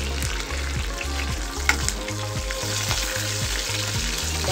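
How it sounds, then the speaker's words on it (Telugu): Lentils, curry leaves and dried red chilies fry in hot oil with a steady, close sizzle, and a spoon stirs them now and then. "బాగా వేగనిద్దామండి."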